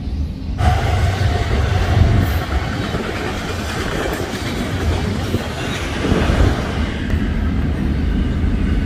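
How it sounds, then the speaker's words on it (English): A train rumbles past a crossing in North Dakota, loud and close, with heavy rolling clatter of wheels on track sustained throughout. "Here comes a train."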